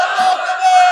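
A large crowd at a religious gathering roars a short, unified shout in response to a call for takbir, loud and sustained for about a second.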